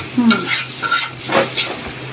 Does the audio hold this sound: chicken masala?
yes